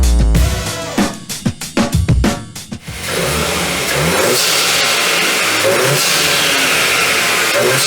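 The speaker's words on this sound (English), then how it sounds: "it will result in some pretty nice induction noises" A VW MK8 Golf R on the road, its engine giving a few sharp revving bursts and blips with strong induction noise, then settling into a steady loud drone while driving; voices come through faintly beneath the engine.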